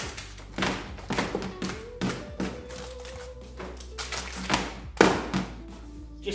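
A baking tray of sweet shortcrust pastry is lifted and dropped onto a bakery bench, producing a series of close, sharp thuds and taps at irregular intervals over a low background hum.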